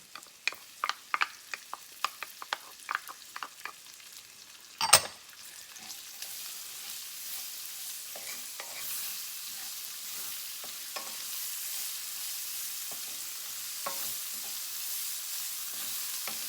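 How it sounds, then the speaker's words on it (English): Garlic and onion fry in a pan after a run of quick clicks and a sharp knock, then settle into a soft, even sizzle that continues quietly to the end. "We're going to let that cook for about 8 to 10 minutes until the garlic and the onion is nice and soft"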